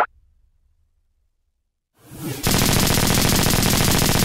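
After near silence and a rising whoosh, a cartoon machine gun erupts into loud, continuous rapid-fire rounds that hammer on without pause.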